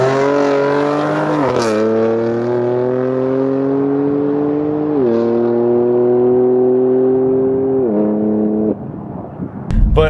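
A lowered BMW F82 M4 on Swift springs rolls slowly with a steady, droning engine hum whose pitch rises and falls gently through gear changes. The sound is loud and close, and a few knocks come at the end.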